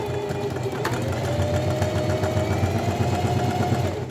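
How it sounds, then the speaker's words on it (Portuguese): Sewing machine stitching the waist-to-slit seam of a skirt, a close, steady mechanical whir with a fast rhythmic needle chatter throughout, no talking. "E eu vou fazer uma costura até a marcação da fenda."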